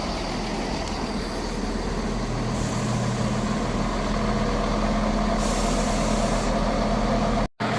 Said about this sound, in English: Arriving in now is the 1212 Scotrail service from Cowdenbeath to Edinburgh Waverley